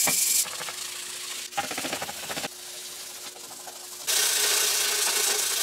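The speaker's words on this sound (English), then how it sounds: "So let's start sanding." Steady abrasive sanding with 80 grit sandpaper rasps close by in long strokes on a fiberglass build, with a motor humming underneath and changing pitch between passes.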